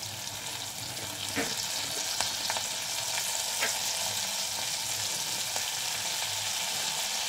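Drumstick flowers go into a pan of frying potatoes and eggplant, and a dense, steady sizzle fills the scene up close, with a few faint clicks of a utensil over the continuous frying hiss.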